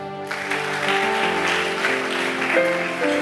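An Easter church congregation applauds to acclaim Jesus, with steady sustained clapping over music for the whole stretch.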